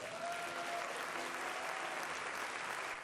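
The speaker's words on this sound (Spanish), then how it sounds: "¿Cuánto le das un aplauso al Señor?" A congregation claps for the Lord during a church sermon. The applause is a continuous, even roar of many hands, fairly soft and distant, with a faint tone or voice lingering beneath it.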